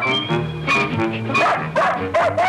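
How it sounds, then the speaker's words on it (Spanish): A dog in a dubbed 1968 Huckleberry Finn adventure series lets out a quick run of sharp barks and yips, close and loud, in uneven bursts. "Sí, es un perro de verdad."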